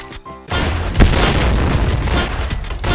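Pistol fire in the online shooter Point Blank, a loud booming shot at close range followed by a dense roar of overlapping gunfire and blasts that stays loud throughout.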